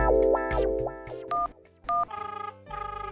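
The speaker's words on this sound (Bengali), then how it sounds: "ও আপনি ফোন করে বুলিয়ে নিন" A telephone is dialed in a Bengali comedy scene: after swooping electronic effect tones come two short, loud keypad beeps, then a rapid pulsing ring tone, all clear and close with no talk.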